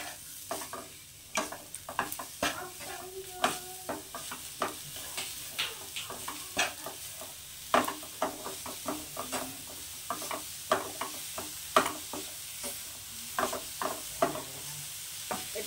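Jaggery filling for steamed semolina pitha is stirred in a pan over medium heat with a sizzle. Steady scraping strokes tick against the metal for the whole stretch, close and moderately loud, with no talking.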